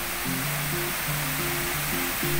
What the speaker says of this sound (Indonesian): debit air di air terjun Temam itu nggak terlalu deras